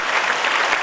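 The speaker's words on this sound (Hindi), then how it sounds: "आज तक नहीं बजी है तो ताली बजाइए।" A college audience claps at a lecture event, a dense, even burst of loud applause heard briefly.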